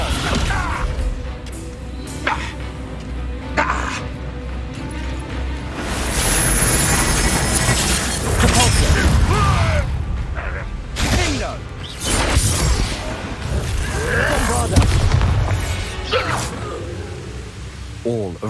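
A Bombarda blast spell in the Hogwarts Legacy video game fires amid heavy combat, with repeated loud crashes, thuds and whooshing impacts layered over game music, and a voice speaking over the action.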